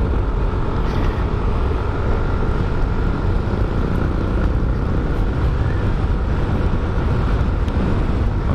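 A Yamaha Neo scooter riding through city streets, its small engine droning steadily with road and wind noise, loud and continuous with no talking.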